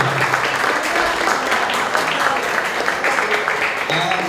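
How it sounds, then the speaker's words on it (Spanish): Applause from an audience at a cultural discussion gathering, honoring the team on stage. The clapping is dense, steady and close for the whole stretch, with some voices mixed in. "pido un fuerte aplauso para ellos."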